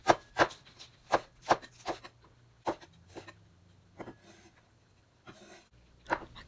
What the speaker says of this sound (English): Cut the spinach in thirds. Slice the hot pepper too.